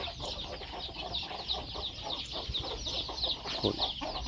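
A hen clucks repeatedly at close range on a farm, a rapid run of short clucks over quiet background rustling.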